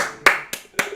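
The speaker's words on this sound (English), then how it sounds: "Clap with me." A livestream host claps hands three times in an even rhythm during a crypto market broadcast; the claps are sharp, close and loud, with no talk.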